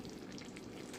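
Ginger frying in hot oil for fish curry, a faint continuous sizzle and crackle, close and steady for a brief moment.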